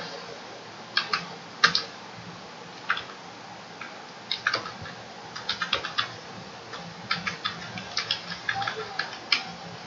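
Computer keyboard typing while entering Oracle PL/SQL code, with close, crisp key clicks arriving in uneven bursts and short pauses throughout, and no talking.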